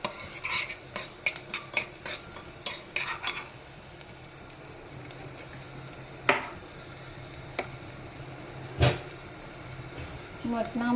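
Mutton with bay leaves being stirred and sautéed in a pan, with a soft sizzle under repeated scrapes and clinks of a spoon against the metal. Someone talks over it.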